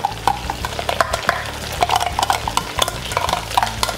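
Garlic frying in oil for Hokkien mee, with a close, crackling sizzle broken by repeated sharp spatula scrapes and clinks against the pan in an uneven rhythm.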